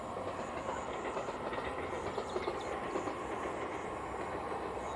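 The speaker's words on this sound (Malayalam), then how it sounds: "അതാണ് ട്രെയിൻ പോകുന്നത്." A train rolls past out of sight behind trees, a steady, continuous rumble with faint wheel clatter heard from a moderate distance, with no talk over it.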